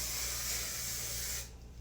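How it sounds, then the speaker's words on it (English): Finish control hair spray sprays steadily onto hair in one long close hiss, then cuts off abruptly near the end. "I'm gonna shake it up a little bit, and I'm gonna spray it on my hair"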